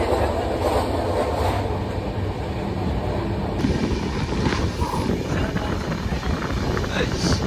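A passenger train runs on a morning journey from Sullurupeta toward Vizag, heard from inside as a loud, continuous rumble of wheels and carriage noise with wind rushing past throughout.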